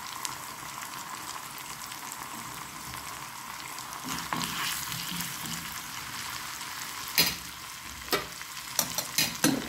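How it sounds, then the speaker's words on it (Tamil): Chili powder and fenugreek fry in hot oil, a steady crackling sizzle that swells briefly, followed by a few sharp spoon-on-pan clicks near the end. "அடுத்தது சில்லி பவுடரையும் இந்த எண்ணெய்க்கு தான் நான் போடுறேன்."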